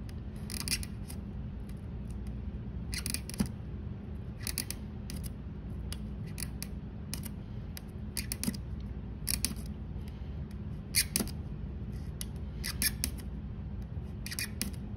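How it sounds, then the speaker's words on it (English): A hobby knife scores repeatedly through a piece of balsa wood, giving faint, dry scraping and crackling strokes in irregular bursts over a steady low background hum, close to the listener, with no talking. "You're scoring it until you make it all the way through the piece of balsa wood."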